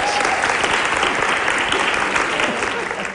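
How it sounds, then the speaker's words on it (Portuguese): An audience breaks into steady applause for a performer at a Brazilian educational program, a dense wash of clapping that holds at full volume for about three seconds before easing slightly at the end. "Uma salva de palmas para Clemente."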